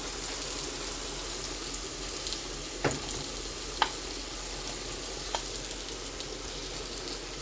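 Hilsa fish sizzling and frying in hot oil, a steady crackling hiss close by with a few sharp spits and pops, no talking over it.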